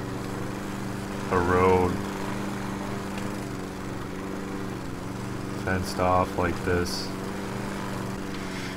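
In the video game Lawnmower Game, a lawn mower engine drones steadily and fairly loud throughout, with someone talking over it in short bursts.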